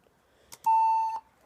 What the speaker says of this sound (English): it's just beeping at me no matter what I